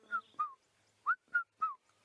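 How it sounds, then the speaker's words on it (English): Cuckoo calling at a sunrise safari in Sabi Sand, a series of five clear whistled notes, two close together, a pause, then three more, fairly near and alone. "We've said we wanted to show you a cuckoo, and we found one, and it's one of my favorite because of that call."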